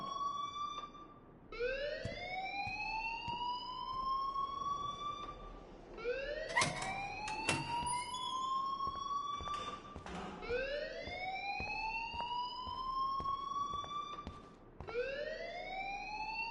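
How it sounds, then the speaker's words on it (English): A school fire alarm blares in the video game Life is Strange, a loud rising siren-like wail that sweeps up and repeats roughly every four seconds, with a few sharp knocks in between. "please turn off that alarm since that's your job"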